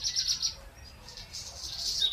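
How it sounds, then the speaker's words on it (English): A small bird chirps in quick bursts of high, bright tweets, fairly faint and clear, with short pauses between phrases and no other sounds. "Just like the relaxing chirping of a bird."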